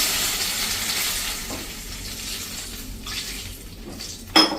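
Water hits hot tempering for nylon khaman, giving a steady hissing sizzle that slowly fades, with a faint clink of a vessel near the end.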